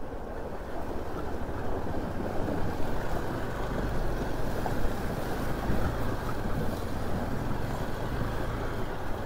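Steady rushing water of a long river in Nepal's far west, between Humla and Darchula, flows continuously, a broad loud roar with no voices or breaks.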